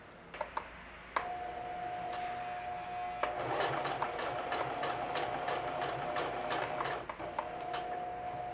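A sewing machine stitches a watch pocket onto a denim shield, with a steady close motor whir and rapid needle ticking running throughout, broken by a few sharp clicks near the start.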